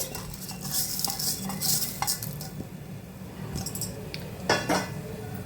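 Washed moong dal dry-frying in a pan, a light sizzle under repeated clinks and scrapes of a metal spoon stirring against the pan.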